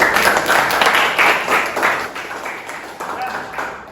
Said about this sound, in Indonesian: Oke, sip, tepuk tangan.